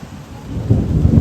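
A low, deep rumble of thunder swelling over about a second, with a faint rain hiss underneath.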